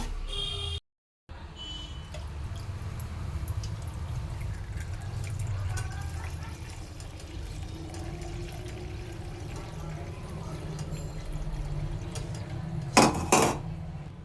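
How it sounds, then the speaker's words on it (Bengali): Milk is strained in a home kitchen, giving a soft steady pour and trickle with light clinks of metal utensils and pots, ending in a brief clatter. "তো চলো দুধটা ছেঁকে জাল দিয়ে দিই।"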